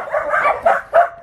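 A close, loud dog barking in a quick run of three or four harsh, angry barks, the last two sharper and spaced apart, with no other sound around them.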